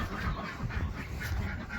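Farmyard ducks quack in a close, busy cluster, their rasping calls overlapping continuously for a couple of seconds.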